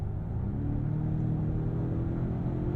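A 2023 Volvo XC90 Recharge plug-in luxury SUV accelerates in power mode, heard from inside the cabin as a steady, smooth low rumble and whir that holds even and close throughout.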